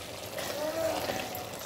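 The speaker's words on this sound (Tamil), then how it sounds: "எண்ணெய் தான் ஊற்ற போகிறேன்." Cooking oil poured into a pot while making country chicken biryani, a soft, quiet continuous pouring trickle lasting under two seconds.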